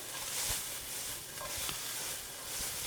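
Beaten eggs being stirred and scrambled in a hot pan, a continuous soft sizzle with faint scraping strokes of a utensil, close and low-level, no voices.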